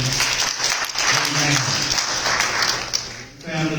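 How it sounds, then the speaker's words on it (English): A Sunday school congregation claps hands in praise, with loud, sustained, dense applause that fills the room and carries mixed voices and cheers. "Let's give God a hand clap of"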